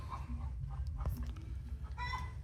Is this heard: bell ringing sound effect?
no